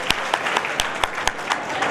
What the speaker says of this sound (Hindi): अगर आपकी तालियों की मेहरबानी रहेगी तो तालियों में कंजूसी नहीं करें।